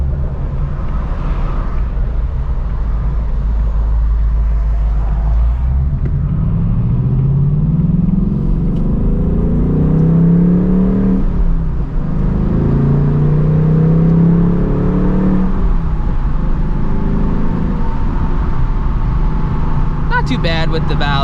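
A 2024 Ford Mustang GT with a manual gearbox and its exhaust valves open, heard from inside the cabin as a loud engine drone rising in pitch through successive gear pulls, with a brief dip between shifts.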